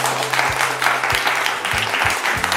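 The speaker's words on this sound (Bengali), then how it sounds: "আমরা কি একটা হাততালি পেতে পারি আগে সকলের কাছ থেকে?" An audience claps together at a jewellery store anniversary event, a short burst of steady applause with a few louder individual claps standing out.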